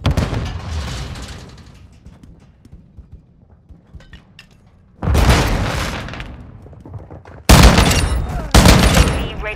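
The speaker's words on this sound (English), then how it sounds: "Stun grenade out!" Stun grenade and gunfire in a hardcore-mode first-person shooter match: loud broadband bursts of blasts and rapid shots arrive in sharp bands, with quieter scattered game noise and faint voice chatter between them.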